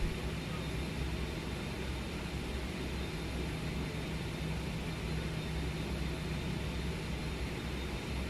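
A steady, loud roar of BAe 146 jet engines winding up in a flight simulator game, heard from the cabin window view, a constant broadband whoosh with a faint high whine, continuing without pause.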